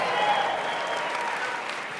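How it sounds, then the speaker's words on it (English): An audience applauds Curtis after his introduction, a steady wash of clapping that holds at an even level for about two seconds, with no clear voices over it. "Give him a tremendous round of applause."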